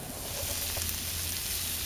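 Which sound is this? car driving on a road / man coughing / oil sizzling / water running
oil sizzling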